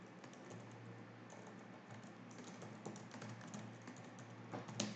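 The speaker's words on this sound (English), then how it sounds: "I type it here" Steady computer keyboard typing while text is entered in 3D animation software, continuous soft clicks running through the whole stretch over a low constant hum, close and fairly quiet, with no talking.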